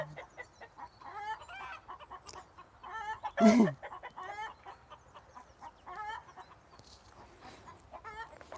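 A pet chicken clucks nearby in a string of soft, repeated clucks, with one sharper, louder squawk partway through.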